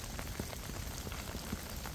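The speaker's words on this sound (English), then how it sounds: "The rain is definitely coming down." Steady rain falls on a campground at MacKerricher State Park in Pinewood West, a dense, even hiss of drops close by with scattered louder splats, no voices.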